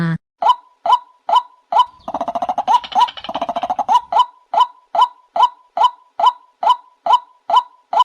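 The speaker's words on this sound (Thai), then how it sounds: "นกกวักหรือ นกไก่นา" A white-breasted waterhen calls in a steady run of loud, evenly spaced croaking notes, broken midway by a denser burst of rapid chattering before the regular repeated calls return, close and clear with no talk.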